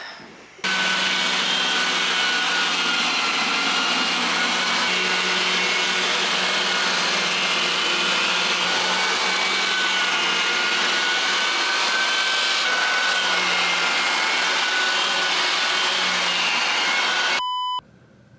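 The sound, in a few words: edge sander grinding wooden floor edges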